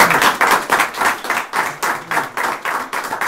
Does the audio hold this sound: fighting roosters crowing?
no